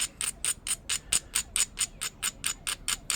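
A stone arrowpoint edge is ground down with a steady run of about fourteen short, crisp scraping strokes in an even rhythm, close and fairly loud, with no talk.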